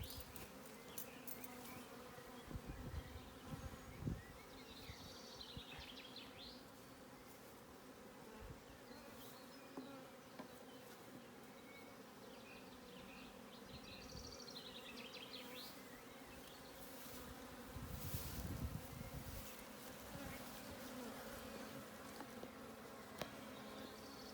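A soft, continuous buzz of many honeybees hums around the hive during a hive transfer, with occasional louder passes of individual bees and faint rustling.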